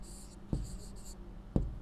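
Pen or pencil writing on paper at a classroom desk, a short scratchy stroke sound heard alone with two soft taps, close and fairly quiet.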